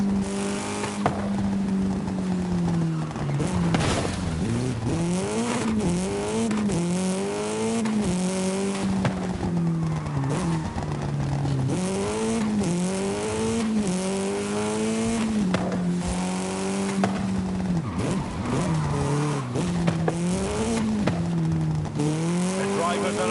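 Race cars in the video game Forza Horizon 5 hold a loud, steady engine note that rises and falls through repeated gear shifts, with hints of tire squeal. Some speech comes through underneath.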